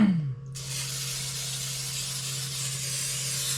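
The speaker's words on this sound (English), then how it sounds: "Let me go ahead and spray my pan." After a brief clatter, regular Pam cooking spray hisses steadily from a can onto a pan in a continuous close-up spray that fills most of the clip.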